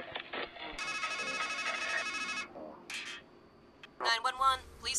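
In the horror video game Strangeland, an electronic telephone rings once in a sustained burst of nearly two seconds, surrounded by brief clicks and clipped voice fragments.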